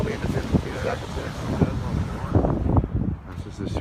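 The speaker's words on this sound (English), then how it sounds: "Windy down here, right?" Strong wind buffets the microphone on a cold October beach by the shore, gusting in uneven bursts over a low rumble of surf.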